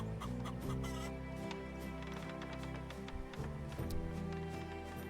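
A chicken clucks faintly beneath steady game music in the farming game Mirthwood, near a mill, the clucks soft and partly masked by the score.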